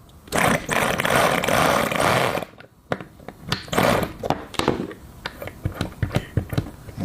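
The world's smallest rotary engine, running at 30,000 rpm, gives a loud, high buzzing rush for about two seconds, then sputters in sharp irregular pops and bursts as it falters.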